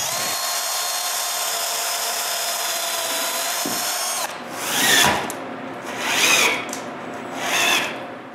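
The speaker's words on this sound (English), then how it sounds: "To try the vise, I need to screw the vise screw." A wooden vise screw on a movable workbench is turned in a few slow, rubbing wooden strokes after a steady whining machine tone stops, each turn swelling and fading.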